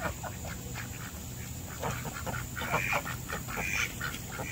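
Four white domestic ducks at a backyard poultry pen quack in a loose, irregular chatter, close by and moderately loud over a faint steady background hiss.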